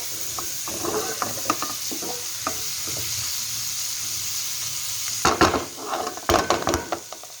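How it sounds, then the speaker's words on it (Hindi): Fried okra being stirred into masala in a pan, with soft sizzling under scattered scrapes and clinks of a spatula against metal that grow sharper and more clustered near the end. "अब इसके अंदर ये जो है फ्राई की हुई भिंडियाँ ऐड कर देंगे और इसे बहुत ही अच्छी तरह जो है मसाले में मिक्स कर लेंगे।"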